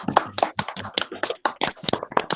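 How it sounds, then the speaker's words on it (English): Audience clapping during a sustainable development lecture, in short irregular bursts spread over about two seconds, moderately loud, with no talk over it. "So I can hear your claps."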